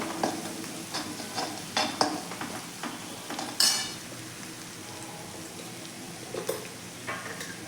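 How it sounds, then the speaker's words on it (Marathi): Coriander powder masala stirred in a pan while making a cluster bean curry, with soft sizzling and intermittent spoon scrapes and clinks against the metal, close and fairly quiet. "2 चमचे मी धना पावडर देखील घातलेली आहे। व्यवस्थित मिक्स करून घेऊयात।"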